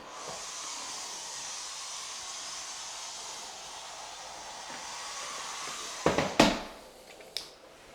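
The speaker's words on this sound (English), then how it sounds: "So now it's really starting to come out." A steady hiss of steam from a Bissell PowerFresh Vac & Steam mop runs continuously, ending with a few sharp clicks and clatters near the end.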